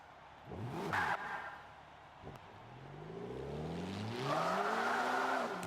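A Mitsubishi Evo 8 drift build accelerates in second gear in Forza 5, its engine note climbing steadily from a low drone to a loud, rising rev after a short burst at the start.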